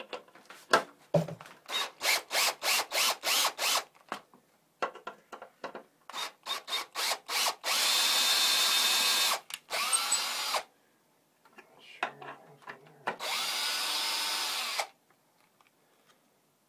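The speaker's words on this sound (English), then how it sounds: "when I was driving that screw in, the wood wasn't solid enough" A power drill drives a screw into wood for a makeshift wheel painting stand, in close, loud bursts: rapid stuttering pulses first, then longer sustained whirring runs separated by short pauses.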